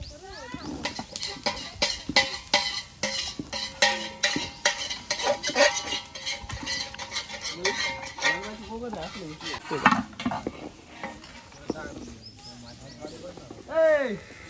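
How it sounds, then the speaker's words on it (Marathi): Breakfast dishes get scrubbed at an NSS camp, with close, busy clinks, scrapes and clatter of pots and utensils coming in irregular bursts while people talk nearby. "आम्ही इकडे भांडे घासायला आलोय नाश्त्याचे"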